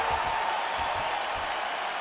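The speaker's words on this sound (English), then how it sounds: "So the crowd voicing its appreciation after that round." A steady wash of crowd applause and cheering after a round in the UFC 4 fighting game, dense and continuous at a moderate level for its short length, with no talking.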